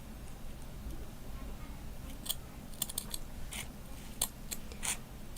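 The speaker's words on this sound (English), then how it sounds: "So I'm just gonna use my fabric scissors for this." Fabric scissors trim a printed pattern with a handful of quick, crisp snips, scattered irregularly over a low steady room hum.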